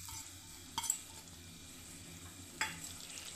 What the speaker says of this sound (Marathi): बटर अगदी थोडंसं वितळलं लगेच आपल्याला कांदे घालून घ्यायचे.